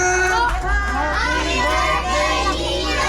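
A crowd of children at a birthday party shouts and cheers together at once, a loud, jumbled wash of young voices rising and falling.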